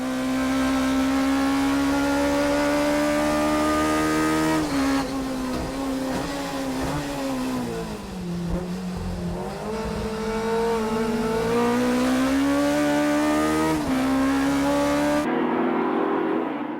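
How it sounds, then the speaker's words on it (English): Toyota AE86 race cars at Tsukuba circuit in an N2 Cup battle, engines screaming at high revs, close and loud, with pitch rising and dipping through gear changes and corners, running bumper to bumper before the sound cuts off abruptly. "Now the 2 cars were bumper to bumper going into the final lap."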